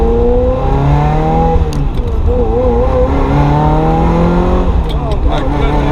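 A Ferrari F355, abandoned and sitting for years before this first drive, accelerates hard, its engine note climbing in steady rising harmonic sweeps. The sound is loud and continuous and fills the whole stretch, with no speech over it.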